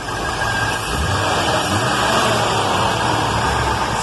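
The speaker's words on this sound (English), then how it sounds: "The car's running and idling at just about a reasonable speed." A 1956 Chevy engine idles close by after a Holley carburetor rebuild, giving a steady, loud running rumble with no talk over it.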